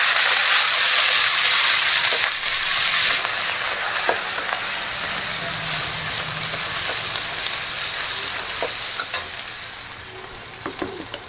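Coarse ginger and green chili paste fries in oil with cumin and asafoetida, giving a loud, dense sizzle that slowly eases over time under soft stirring and a few utensil clicks. No one speaks.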